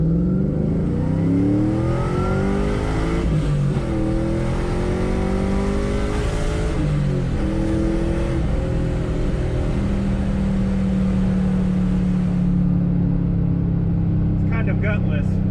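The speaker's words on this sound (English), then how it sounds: "the exhaust sounds pretty good from the inside" A Pontiac Trans Am's exhaust heard from inside the cabin while driving, a deep droning rumble rising and falling through several gear changes and revs, then settling into a steady cruising hum; a voice may be talking over it.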